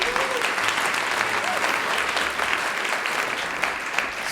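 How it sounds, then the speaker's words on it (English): Live studio audience applause, a steady wash of many hands clapping at moderate distance, sustained evenly for about four seconds without a break. "Give yourself a big round of applause."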